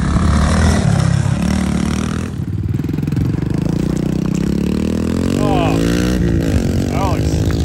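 A Kawasaki KLX110 and a Honda CRF110 dirt bike in a drag race, loud nearby engines revving and rising in pitch as they pull away, with people talking over the noise.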